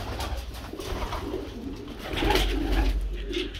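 A male Shirazi pigeon coos in soft, low, throaty bursts, close by in a loft with a red Basra hen, over a steady rumbling background.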